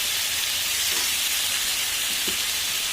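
Potatoes frying in a pan together with meat, making a loud, steady hiss and sizzle with a couple of faint stirring knocks.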